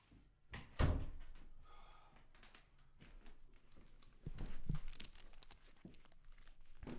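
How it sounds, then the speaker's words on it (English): An indoor door swings shut with a single solid thud and faint rustling, followed by quiet room noise and small handling sounds close by. "I'm gonna close the door."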